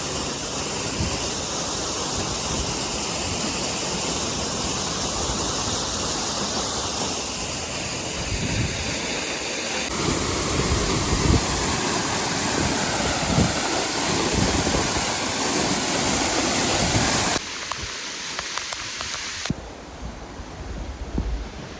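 Battle Creek Falls waterfall roaring loud and close, a dense continuous rush of falling water that shifts in tone as the microphone moves, with no talking.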